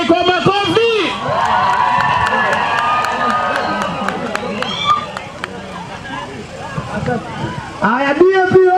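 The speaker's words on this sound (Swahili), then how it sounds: "Tupige PK kwa makofi." A large political rally crowd for PK Salasya claps and cheers steadily, a dense mass of hands and voices continuing for several seconds, with a voice calling out over the crowd near the start and end.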